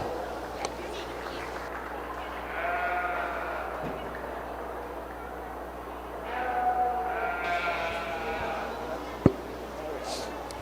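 Sheep bleat in two drawn-out bursts at moderate distance amid a murmuring crowd and low hum at a county fair 4-H sheep show, with a sharp knock near the end.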